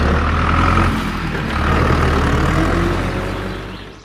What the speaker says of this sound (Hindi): तभी एक दिन जंगल में गैस कंपनी का एक ट्रक आता है।